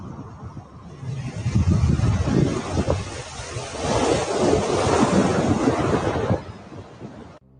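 Rough ocean surf in rainy conditions, loud continuous crashing waves with heavy rushing wash and wind buffeting the microphone, steady for most of the clip before dropping away at the end.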